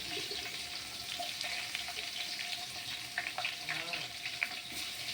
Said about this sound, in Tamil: பூண்டு வந்து கொஞ்சம் லைட்டாக அந்த ஜீரகமும் பூண்டும் சேர்ந்து ஃப்ரை ஆகணும்.